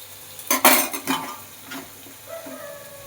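Boiled bottle gourd greens tipped into a cooking pan, with a few sharp metallic clinks and scrapes of a utensil against the pan, close and fairly loud, then quieter stirring.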